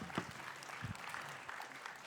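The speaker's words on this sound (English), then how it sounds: "A round of applause for our fireside chat." An audience at the UTD Big Idea Competition 2025 finals claps after a fireside chat, producing faint, quiet, brief applause with a few scattered louder claps.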